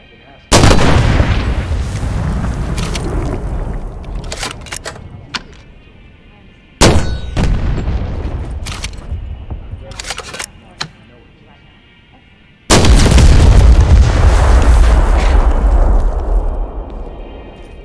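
In the World War II shooter game Medal of Honor: Above and Beyond, a bazooka fires three times, each heavy booming blast followed by a long rumbling decay with scattered clanks and pops between shots.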